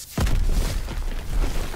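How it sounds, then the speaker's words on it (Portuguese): A single deep explosion bursts with a sudden onset in the Call of Duty WWII video game, a heavy boom followed by a rumbling, crackling tail of debris. "Explosão!"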